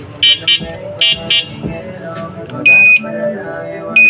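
Short electronic e-bike horn beeps sound in a quick series, then two longer sustained honks follow, close and loud over faint background noise and some speech.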